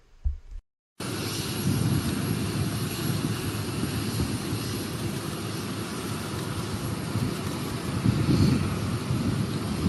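A steady, loud roar of the engines on JD Vance's airplane, heard close after a brief silence at the start and holding a constant rumble throughout.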